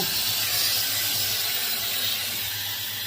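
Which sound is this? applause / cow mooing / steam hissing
steam hissing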